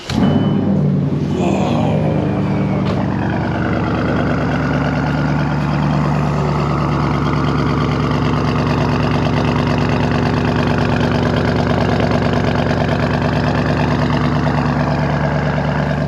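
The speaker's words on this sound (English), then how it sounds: "it's got straight pipes on it. Like, check this out." A straight-piped Audi RS6 engine idles loud and close, a deep steady rumble with a constant throb after a brief rise at start-up.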